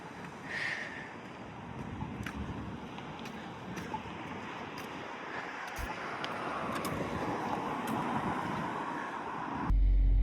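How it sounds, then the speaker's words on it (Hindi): Strong wind blowing outdoors under cloudy, cold, post-rain weather, a steady broadband roar with gusty swells and rumbling buffeting on the microphone, continuous for about ten seconds before a sudden louder burst at the end. "कितनी तेज हवा चल रही है।"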